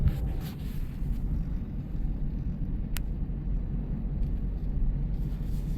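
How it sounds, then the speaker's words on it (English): Breezy outdoor wind in Saskatchewan farm country buffeting a microphone, a steady low rumble that swells and fades throughout. "it's still a little breezy, but the wind has gone down"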